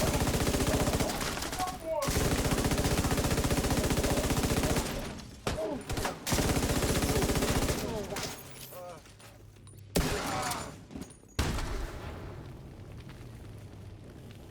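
Rapid automatic turret gunfire in a video game, long dense bursts broken by short gaps, loud and close, with a few scattered pops and a voice speaking faintly between bursts.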